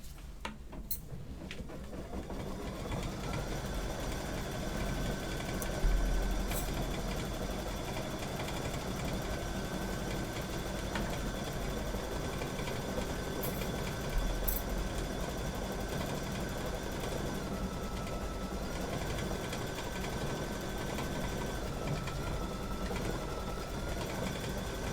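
A sewing machine stitching a quilt panel, a faint steady hum with a continuous whine running for the whole stretch, even and unbroken with no talk.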